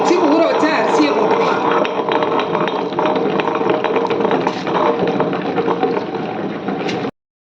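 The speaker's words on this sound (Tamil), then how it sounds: "வடிகட்டி எடுத்த ராகி பாலை கொஞ்சம் கொஞ்சமாக உளுந்தில் ஊற்றி ஆட்டிக்கலாம்" A wet grinder churns soaked urad dal as ragi milk is poured in, giving a steady, dense, continuous grinding rumble that stays loud and even throughout before cutting off at the end.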